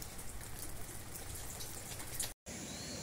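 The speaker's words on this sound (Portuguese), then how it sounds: "Chuvinha fraca. Mas tá molhando bem." Light rain falls steadily in the countryside of Brazil's Northeast, a soft even hiss of drizzle with faint pattering, heard alone and briefly cut out near the end.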